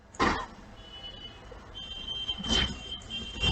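An electronic buzzer alarm sounds in two short harsh bursts with a faint steady tone between them, fairly close.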